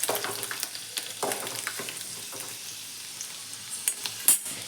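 Garlic frying in oil in a pan, a light crackle and sizzle with occasional sharper pops and stirring scrapes, fairly quiet and close without speech.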